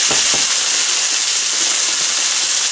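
Onions hitting a hot pan for chili chicken, a steady loud sizzle and steamy hiss that holds evenly throughout, with a few soft knocks near the start.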